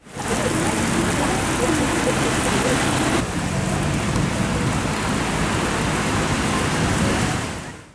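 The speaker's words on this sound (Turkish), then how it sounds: "Öğleden sonra başlayan yağış zaman zaman kuvvetli sağanağa dönüşüyor." Heavy rain shower pouring down on a street in Edirne, Turkey, a steady, dense hiss of rain on surfaces that stays loud and unbroken throughout.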